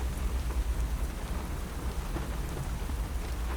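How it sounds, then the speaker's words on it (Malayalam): Heavy rain pours steadily outdoors with a deep low rumble underneath, close and continuous without any speech. "പിന്നെ അതിന് കട തുറന്നിട്ടില്ലല്ലോ, മഴ തന്നെയല്ലേ."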